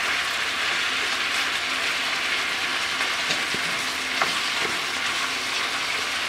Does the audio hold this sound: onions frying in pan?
yes